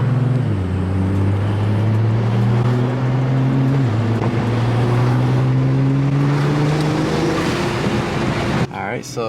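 A car with a front-mount intercooler upgrade accelerates hard through the gears, its engine drone rising steadily in pitch with a brief drop at a shift, loud and continuous inside the cabin before cutting off.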